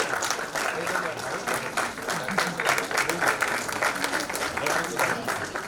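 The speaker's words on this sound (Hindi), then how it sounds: "जोरदार तालियों के साथ बहुत बहुत बधाई।" An audience at a nursing and paramedical institute award ceremony gives steady, energetic applause to congratulate a nursing college, with dense clapping throughout and a voice speaking over it.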